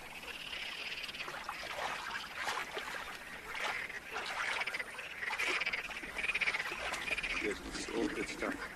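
Marsh frogs in the marshes of Iraq croak in a dense, continuous chorus, many overlapping rasping calls rising and falling at close to middle distance over soft water ambience.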